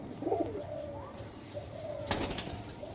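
White desi high-flying pigeons coo in a series of drawn-out, wavering calls close by, with a brief burst of wing flapping or rustling near the end over steady background noise.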